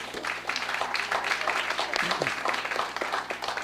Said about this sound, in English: I think that needs some applause.